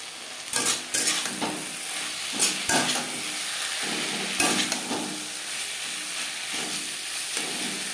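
Potato pieces stirred and fried in a tomato masala for a Bengali fish curry: a continuous sizzle with repeated scraping strokes and knocks of a spoon against the pan, no speech.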